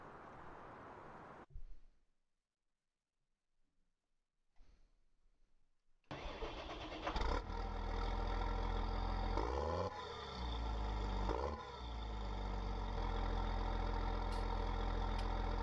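A large tractor engine in Farming Simulator 19 cranks briefly, then catches and roars into a loud, steady low idle that rises and dips slightly, with no talking.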